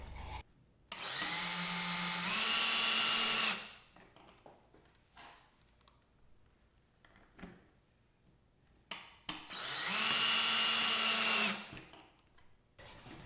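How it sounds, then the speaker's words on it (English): A power drill drives number 8 half-inch screws into a flange collar, two long whining runs about three seconds each, the pitch stepping up partway as each screw seats, separated by quiet handling clicks. "screw those in with some number 8 1/2 inch screws"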